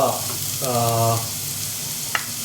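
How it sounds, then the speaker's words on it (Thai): Garlic sizzling in a pan over moderate heat for a Thai garlic-pepper shrimp dish, a steady close frying hiss with a brief tonal scrape midway and a couple of small clicks near the end. "ใส่กระเทียมลงไปนะครับ"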